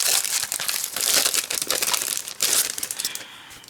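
A Spellbinders Christmas Traditions paper pad is handled up close, its sheets and wrapping giving loud, irregular crinkling and crumpling bursts with short pauses and no talk.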